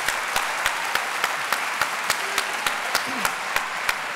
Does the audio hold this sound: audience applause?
yes